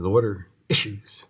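A sudden sneeze bursts out during a lecture about water flowing from a tank, right after a man's speech, followed by a quieter second burst.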